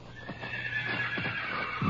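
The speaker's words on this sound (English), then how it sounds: "Somebody's trying to get away with one of the horses." A horse neighs and whinnies in a loud, drawn-out call, with hooves clip-clopping in the background, in a radio drama set outdoors at night by a tree in moonlight.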